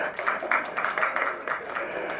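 A small audience claps at a stage event for a film trailer launch, a steady patter of hand claps throughout with no talk over it.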